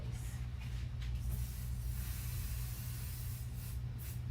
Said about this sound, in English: Now I could put some adhesive spray on here so it could stick down,